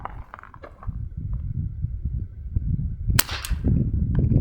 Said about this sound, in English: This air pistol shoots really good.